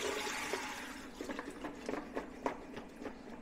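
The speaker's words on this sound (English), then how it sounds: "Just drain all the water off then." Water pours and splashes away as potatoes are drained in a colander, then trickles with scattered drips and small clunks, close by and fairly quiet.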